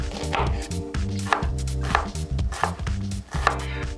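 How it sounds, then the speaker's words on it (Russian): A knife dices an onion into cubes on a cutting board, a brisk, steady series of close chopping knocks, with music playing underneath. "Значит, нарезаем, как всегда,"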